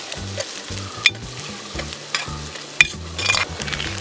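Onion, ginger and garlic fry in a pan for Andhra fish mango curry, sizzling steadily while a spoon scrapes and stirs, with a few sharp clacks against the pan and low background music underneath.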